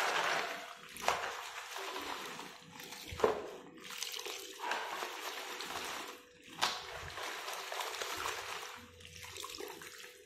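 Old artificial flowers are rinsed in a container of water, giving a continuous sloshing and splashing with a few sharper splashes, fairly faint and close.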